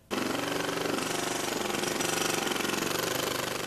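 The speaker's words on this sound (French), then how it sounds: "Démolir sa piscine au marteau-piqueur." A jackhammer breaks up a backyard swimming pool in California, a loud, steady, rapid pounding rattle that starts abruptly and runs continuously close by, with no voices.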